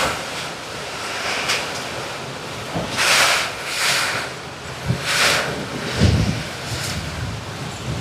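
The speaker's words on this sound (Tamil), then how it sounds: "மழை மழை மழை வந்துட்டு நண்பர்களே. பார்த்தீங்களா? காத்தோட மழை." Strong wind drives rain through coconut and drumstick trees outdoors, a loud, roaring rush that swells in repeated gusts over a constant hiss of falling rain.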